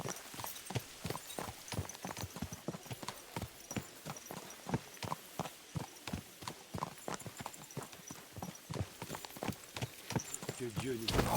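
A horse's hooves clip-clop in a steady walking rhythm in the medieval video game Kingdom Come: Deliverance 2, moderately close and continuous, with someone speaking over the hoofbeats.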